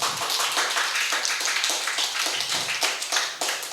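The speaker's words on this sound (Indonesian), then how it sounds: "tepuk tangan coba" An audience in a football talk-show studio claps in response to a show-of-hands poll, a modest, uneven patter of hands that rises and falls over several seconds.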